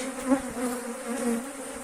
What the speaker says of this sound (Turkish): arılar feci saldırıyor bize